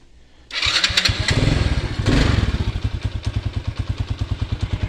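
A 110cc moped engine cranks and catches, revs briefly, then settles into a close, loud, rapid chugging idle.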